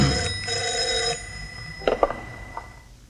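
A telephone bell rings loudly and close in two rapid trilling bursts, then stops, leaving a few soft clicks and handling sounds.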